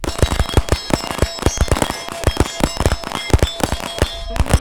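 Rapid gunshots from shooting on the move, a steady run of sharp, loud cracks about a third of a second apart that continue without a break.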